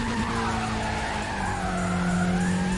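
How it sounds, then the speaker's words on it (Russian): A car braking hard with the handbrake in the racing game Need for Speed ProStreet, giving a loud continuous tire skid and squeal over the engine's steady drone throughout the short stretch. "ручником притормозили"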